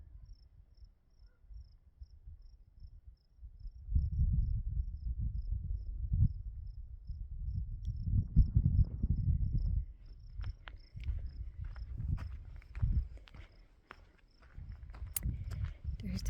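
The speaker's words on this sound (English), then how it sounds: "the crickets are out chirping" Crickets chirp in a fast, steady high pulse throughout, quiet but constant, at mid-morning beside a mountain lake, while footsteps crunch and shuffle along underneath.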